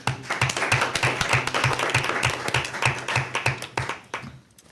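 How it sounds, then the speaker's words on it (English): Attendees at a city council meeting give a round of applause, a dense close patter of clapping with a few louder rhythmic claps, sustained for several seconds before tapering off at the end. "we owe them a huge round of applause for all that they've done"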